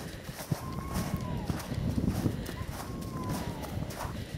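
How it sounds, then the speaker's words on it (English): A horse walking out into its lot on a snowy farm after a snowstorm, hooves clopping in an uneven rhythm, faint and somewhat distant against a steady background hiss. "And then let Wayne's horse back out in his lot."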